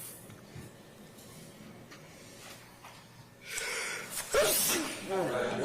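A single loud, close sneeze bursts out near the end after a few seconds of quiet room noise and breathing.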